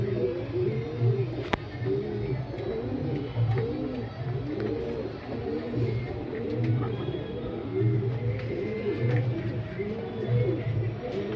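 A pair of male Rakdar pigeons cooing close by in repeated, rhythmic low coos throughout, with a faint background hum.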